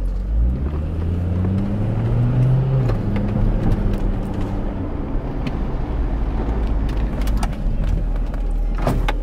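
A C5 Corvette on a test drive, its engine droning low and steady inside the cabin with a few rising rev sweeps early on and road rumble throughout, no talking.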